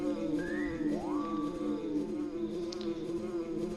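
Buzzing of the fly Buzz Buzz in the video game EarthBound, a continuous insect-like drone layered with game music and sweeping sound effects.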